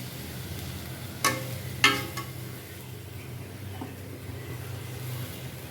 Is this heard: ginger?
yes